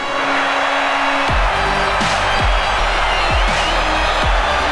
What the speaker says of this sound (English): The crowd erupts for the arrival of Shinsuke Nakamura